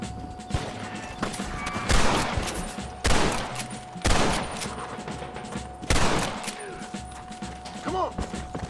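Gunfire aimed at a horse in the Red Dead Redemption video game, a handful of loud separate shots spaced about a second apart over clip-clopping hooves and faint mechanical game sounds.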